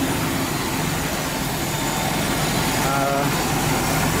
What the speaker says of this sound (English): You can see the magnetic clutch right in front of the compressor is spinning.